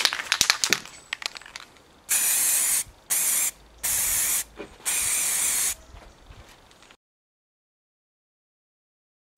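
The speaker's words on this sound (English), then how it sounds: "I'm just going to get away with using some satin black spray paint" A can of satin black spray paint clicks and rattles, then sprays in four firm, separate hissing bursts before everything falls silent.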